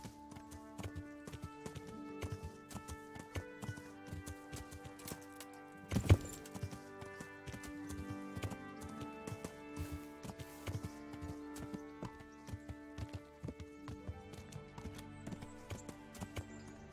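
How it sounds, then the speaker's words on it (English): Horses clip-clop in an irregular walking rhythm around a horse farm in the medieval video game Kingdom Come: Deliverance, with one brief louder burst partway through; the hoofbeats are fairly faint and steady throughout. "Horses."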